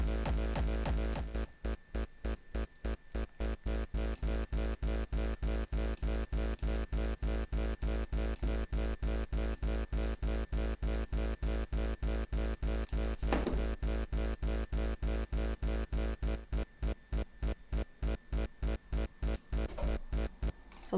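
The middle portion of a Frenchcore kick drum, pounding rapidly and relentlessly at a fast steady tempo, dense and distorted, with a brief pause in the pattern partway through.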